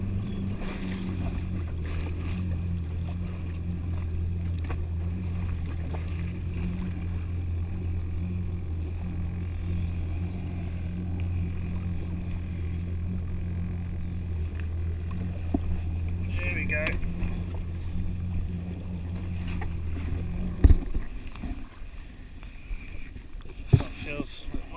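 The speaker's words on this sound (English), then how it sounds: "we're just using the engine of the ski to keep us in the right place" A 2019 Waverunner jet ski engine idles at sea to hold position while slow-jig fishing for snapper. Its low, steady drone runs under wind noise and cuts out after about twenty seconds, followed by a few sharp knocks.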